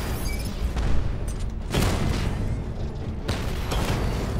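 Tank cannon fire in the video game Batman Arkham Knight comes as a few heavy booming blasts with rumbling tails, mid-distance and moderately loud within the game's ambient noise.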